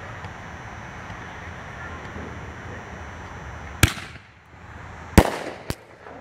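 Ammo Bomber 1 inch canister shell fireworks go off outdoors: two sharp, loud bursts about a second and a half apart, then a smaller crack, over a low windy background hiss.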